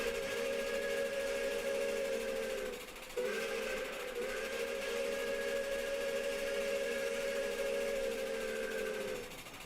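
An older whistle from Berkshire-type steam locomotive 765 sounds a long, steady chime with several harmonised tones, broken by a brief pause near the start and then held for several more seconds.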